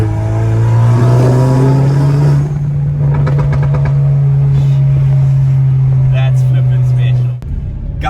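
Renault Megane RS exhaust burbling and popping, a loud, steady low drone for about seven seconds with scattered crackles over it, then a sudden cut and a few last pops; a voice speaks over the start.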